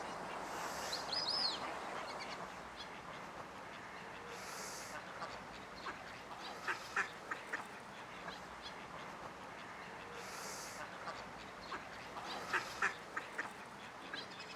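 Ducks and other birds call inside Dawlish Aviary, scattered quacks and honks over a faint steady murmur, fairly distant and soft, with brief voices mixed in.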